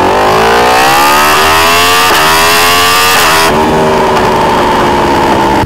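A 2021 Yamaha R1M with an Akrapovic full exhaust screams loud and close, its pitch climbing hard through several gears, each shift marked by a brief dip before the howl builds again.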